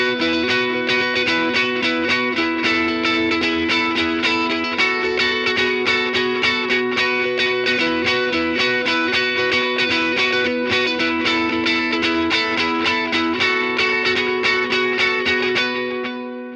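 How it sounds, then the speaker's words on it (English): An electric guitar strums constantly through a delay effect. The chords ring in a dense, even, shimmering wash for about sixteen seconds, with no talking. "Let's try it with the delay on with the constant strumming."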